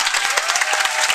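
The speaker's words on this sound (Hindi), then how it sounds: "जोरदार तालियों के साथ।" A crowd claps loudly to welcome a guest at a gathering, dense brisk applause with sharp individual claps standing out, close and continuous.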